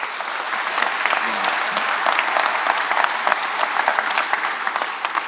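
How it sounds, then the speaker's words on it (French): An indoor audience claps steadily for several seconds at an aviation museum inauguration ceremony, a dense, even wash of applause from a moderate crowd with no voices standing out. "Donc je vous demande de l'applaudir également."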